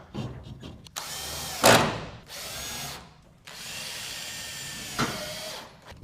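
A power drill drives fasteners into Cemintel Expresswall panels on top hats in short bursts. Quick whirring spins come in close succession, with brief pauses and a sharp clack between them.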